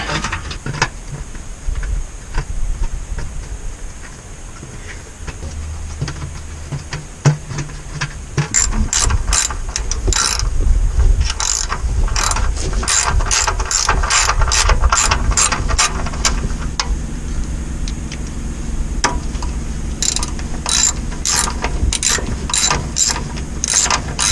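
A ratchet tightens the bolts on a TH400 transmission oil pan, with its repeated clicking bursts coming close and loud over a low background rumble. No one speaks.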